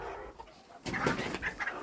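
A bold farmyard hen clucks in a quick run of close, loud calls after a brief quiet start, among ducklings, turkey poults and goslings.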